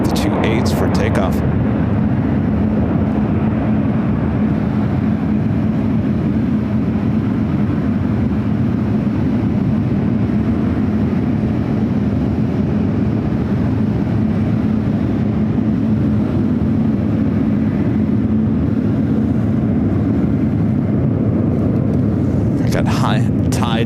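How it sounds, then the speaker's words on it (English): A United Boeing 777-300ER jet taxis out toward the runways for takeoff at San Francisco International Airport, its engines a loud, steady, continuous roar with a low hum that holds for the whole stretch, while a commentator talks over it. "Also have another United 777 to 300 ER heading out to the 28s for takeoff."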